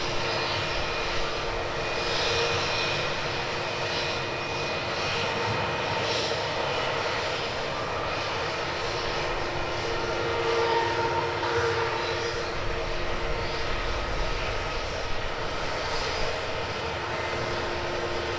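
A Lufthansa airliner's engines roar steadily as it passes Edinburgh Airport, a sustained broadband rumble holding at moderate loudness for the whole stretch with no voices.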